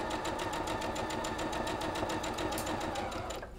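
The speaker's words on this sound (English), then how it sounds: "So we're just gonna stitch with a 1/4 inch seam." A sewing machine stitches a quarter-inch seam on a sawtooth star quilt block, its needle running in a steady, fast rhythmic whir close by that stops abruptly at the end.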